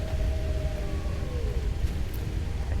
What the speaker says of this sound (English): I do hear wolves.